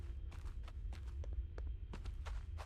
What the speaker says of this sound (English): I can hear footsteps again.